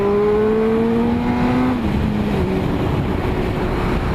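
Honda Blade sport motorcycle engine revving hard under throttle on quick roads, a loud steady rising tone that drops sharply as the revs fall away partway through.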